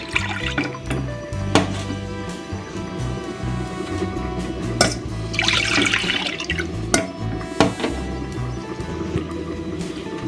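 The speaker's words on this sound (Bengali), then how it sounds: "পাত্রর মধ্যে আমি দিয়ে দেব দুই কাপ পরিমাণে দুধ" Milk poured into a cooking pot for caramel pudding, a steady liquid splash and trickle running through most of the stretch over a constant low background hum, with a few sharper clinks.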